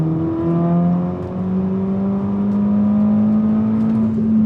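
Ford Mustang on a Stage 2 tune pulls hard in third gear from around 40 mph, its engine note climbing steadily in a loud, continuous in-cabin drone with no pauses.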